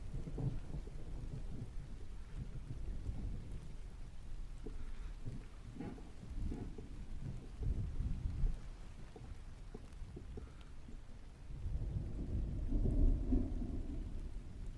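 A rainstorm patters steadily outside while deep, rolling thunder rumbles several times in slow, heavy swells, fairly distant and muffled, with no voices.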